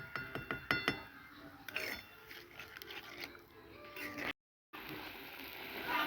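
Spoon clinking against a pot while stirring a spice mixture with a little water, several sharp metallic taps early then softer scraping, a brief dropout near the end, no speech.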